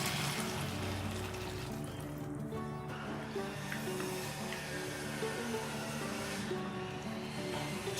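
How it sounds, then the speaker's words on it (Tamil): A small amount of water is poured into chicken gravy cooking in a pot, producing a quiet, soft trickle over a steady low background hum, with no talking. "நான் கொஞ்சமாக தண்ணி சேர்க்குறேன்"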